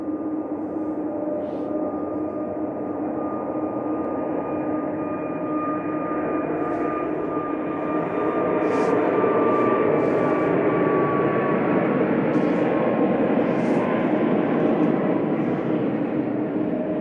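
A Boeing 737 MAX 8 departs Manchester Airport for Geneva, a steady, loud jet rumble with a faint whining tone that swells slightly midway, accompanied by a few brief clicks and no talking.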